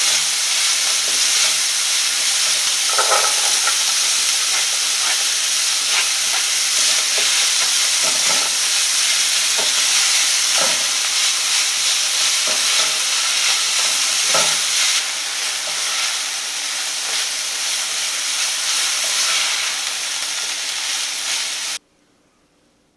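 Sausage with chopped onion and celery fries in a pan, giving a loud, continuous sizzling hiss with occasional utensil scrapes; it ends abruptly in silence.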